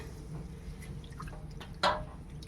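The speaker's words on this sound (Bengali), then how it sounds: "এরকম জল দিয়ে 4-5 বার ধুয়ে নিতে হবে।" Sesame seeds being washed in water by hand, faint drips and soft sloshing with one brief louder splash near the end.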